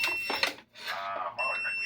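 A refrigerant leak detector on an LG inverter split-type aircon beeps in high, piercing electronic tones, sounding in bursts with a brief gap between, while a voice speaks nearby underneath.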